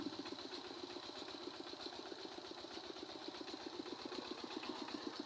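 A small Thai farm truck (rot tok) engine running, a steady rapid chugging pulse with a mechanical clatter, even and continuous at moderate level, with no talking.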